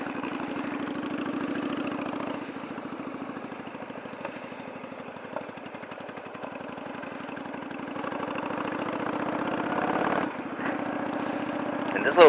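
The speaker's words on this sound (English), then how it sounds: "But now I'm just going to ride around for a second." A motorcycle being ridden slowly around a small parking lot, its engine holding a steady mid-pitched pulsing drone near the microphone, with slight rises in revs toward the end.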